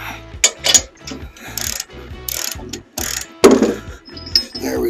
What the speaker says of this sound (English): There we go, the lock pin's on it.